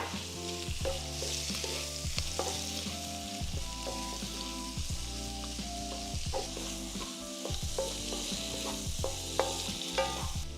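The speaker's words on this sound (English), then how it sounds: "I'm gonna go ahead and add my shrimp now" Shrimp and Spam fry in a hot pan for shrimp fried rice, giving a steady, fairly loud sizzle with a few brief clatters of stirring, and no voices.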